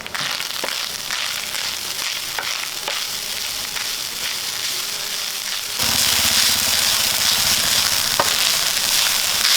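Grated coconut with peppercorns and cumin roasting in a hot pan for a Kottayam-style fish curry: a loud, continuous close sizzle with scraping stirs, rising sharply in intensity partway through, with no talk.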